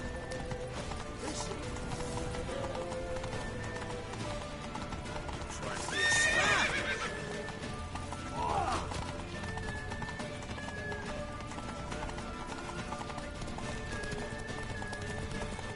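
Horses in The Witcher 3 clip-clop steadily at a gallop throughout, with a loud whinny rising near the middle and a shorter neigh soon after, all under continuous game ambience.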